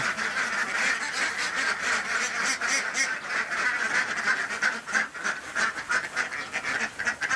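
A flock of farmed ducks quacks loudly and continuously while eating rice, many overlapping nasal calls packed close together with no talking.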